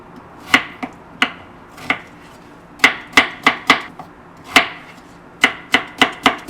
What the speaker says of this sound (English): Cut them in like this and cube the potato.